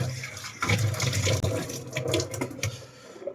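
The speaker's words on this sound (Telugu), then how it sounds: "ఫేస్ వాష్ చేసుకుందాం." Running water splashes as a face is washed at a sink, close and uneven, with bursts of splashing and dripping that fade toward the end.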